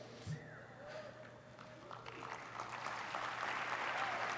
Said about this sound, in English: That's worth clapping over.